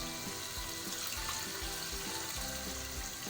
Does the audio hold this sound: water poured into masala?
yes